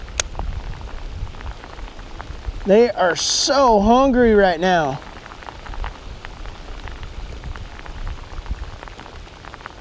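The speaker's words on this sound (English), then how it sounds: "This rain is helping things so much with this bite." Steady rain patters on a creek during bass fishing, a fine continuous hiss close by, with someone talking over it for a couple of seconds.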